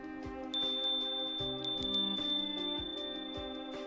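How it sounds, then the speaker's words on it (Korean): Shimmering wind-chime tones ring out in a nighttime ghost story set at a sea-fishing spot, with several bright metallic strikes over sustained ringing harmonics and a low drone beneath, close and clear with no talking. "뭔가 아름다운 풍경 소리 같은 음색이 들려왔어"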